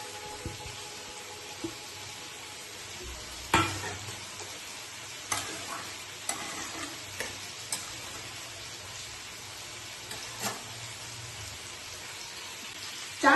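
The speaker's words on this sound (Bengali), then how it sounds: "চাটনির সবজিগুলো আমার ভাজা হয়ে গেছে," Pumpkin, sweet potato and papaya fry with grated ginger for a chutney, giving a steady soft sizzle broken by scattered crackles and a few sharper pops, with no talking.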